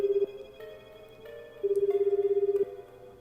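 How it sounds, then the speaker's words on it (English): Phone ringing in the video game 428: Shibuya Scramble, a warbling electronic trill heard in two bursts, a short one and then a longer one, fairly close and with no talking over it. "The phone rang several times before a sleepy voice finally answered."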